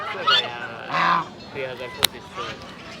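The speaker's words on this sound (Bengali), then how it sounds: "এখানে রাজহাঁস আছে চীনা হাঁস আছে" Domestic geese honk in bursts at the busy Salanga livestock market in Bangladesh, with market chatter and nearby voices running under the calls and one sharp knock standing out.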